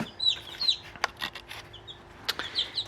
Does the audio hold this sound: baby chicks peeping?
yes